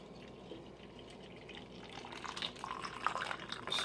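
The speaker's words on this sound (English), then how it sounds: "I'm going to pour it in here so you can see the contrast with the white cup." Green stinging nettle tea poured into a white cup, a soft trickling liquid splash that swells louder and brighter toward the end as the cup fills, close by with no talk.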